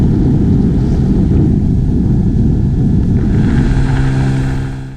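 Inflatable boats, one powered by a 25 horsepower Suzuki 4-stroke outboard and the other by a 25 horsepower Mariner 2-stroke outboard, run with a loud, steady motor drone and rushing water.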